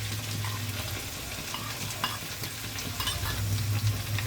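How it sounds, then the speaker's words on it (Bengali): Goat meat, already browned, fries in a pan as chopped spices go in and get stirred, a soft continuous sizzle with low bubbling and occasional scrapes of the spoon, no voices. "মাংসটা ব্রাউন হয়ে গেছে এবার আমি দিয়ে দেবো এর মধ্যে কেটে রাখা মশলাটা"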